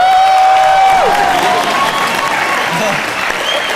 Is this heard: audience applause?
yes